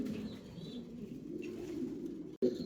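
A pair of almond muracele pigeons cooing softly in a low, continuous murmur close by, with faint chirps above and a brief knock near the end, no speech.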